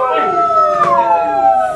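Several wolves howl together, long rising and falling tones that overlap and sustain loudly through the whole moment with no other sounds.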